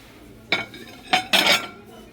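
Ceramic plates are handled in a shop, giving three sharp clinks close by, the last two coming in quick succession.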